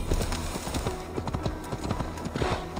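Horse hooves clip-clopping in a steady trotting rhythm in the video game Assassin's Creed Valhalla, close and clear throughout the short stretch.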